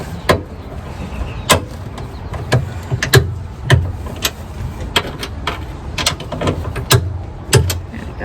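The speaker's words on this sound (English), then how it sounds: "I torque those down and then I'll come back to torque this" A torque wrench clicks sharply and repeatedly while tightening the coilover top nuts on a Supra. The clicks come at irregular intervals over a low background rumble, and no one speaks.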